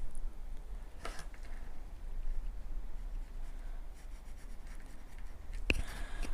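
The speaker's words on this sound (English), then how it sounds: "It's the joy of doing it in pencil." A pencil marks a 3/8-inch seam allowance on fabric, giving soft, faint scratchy strokes in a quiet room, with a couple of brief sharper rustles and a low background hum.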